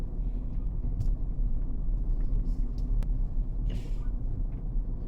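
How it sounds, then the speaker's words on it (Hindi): A manual car drives slowly past another vehicle, its engine giving a steady, close, low rumble with road noise throughout and a few faint higher hisses. "अब देखिए धीरे से मैं इसके बगल से गाड़ी को निकालूंगा"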